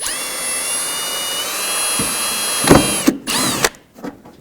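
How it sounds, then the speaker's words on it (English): A power drill whines steadily at high speed, then bites in with a few short, loud bursts of grinding as it bores a hole through a mud flap for a 2005-2009 Chevy Equinox, up close. "I'm going to drill one hole in here."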